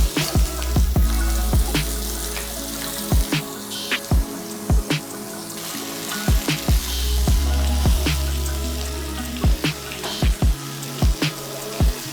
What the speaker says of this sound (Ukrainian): Обсмажу м'ясо